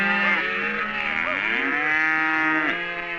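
Several cattle mooing loudly and close together on an open Arizona Strip range, with overlapping drawn-out lowing calls filling the moment.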